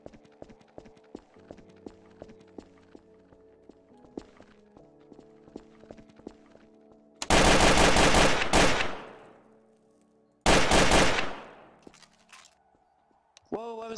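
Gunfire in Garry's Mod, heard as two long, loud bursts of rapid shots over lighter in-game clicking and tapping, with a short third burst at the end.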